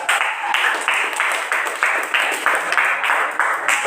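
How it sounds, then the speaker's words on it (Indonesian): A classroom of students claps together for two student groups, a loud, close burst of rhythmic, evenly timed applause beating steadily for a few seconds. "Tepuk tangan dulu untuk kelompok 1 dan 2."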